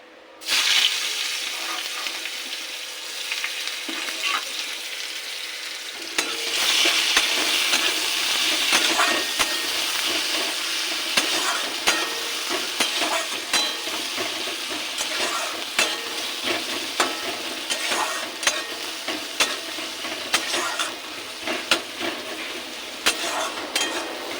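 Chopped onion hits hot oil already seasoned with bay leaf, whole garam masala and cumin seeds, jumping from a quiet hiss to a loud, dense sizzle, then a steady fry under repeated spatula scrapes and stirring clacks.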